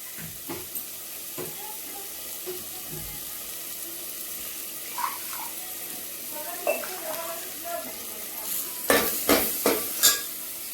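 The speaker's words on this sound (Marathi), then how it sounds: "आता चांगला 5-10 मिनिट भाजू द्यायचा चांगला मसाला." Ration rice coated in masala roasts in a pan while a spoon stirs it. Soft scrapes and clinks come at first, then grow into a louder run of stirring strokes near the end over a faint sizzle.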